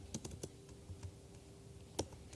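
Keys clack on a computer keyboard as a git command is typed, a few quick soft taps close by, then a pause and one firmer keystroke, quiet against light background noise.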